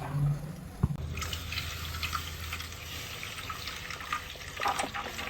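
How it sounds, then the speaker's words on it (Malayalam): Milk poured into caramelised sugar in a cooking pot, a steady watery rush and bubbling under a soft background hum, close by and moderately quiet, with a brief clink at the start. "നമ്മൾ നമ്മളിതിലേക്ക് പാല് പാർന്നു കേട്ടോ"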